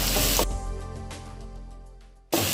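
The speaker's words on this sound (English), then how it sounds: "fry this onions until golden brown" Sliced onions sizzle and hiss steadily in a hot pan, a broad frying crackle that dies down after a moment before a louder burst returns at the end.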